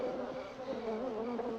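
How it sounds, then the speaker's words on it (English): A dense swarm of killer bees drones in a continuous, wavering buzz, loud and close, with shifting overlapping pitches and no voices. "they had to meddle with these killer bees"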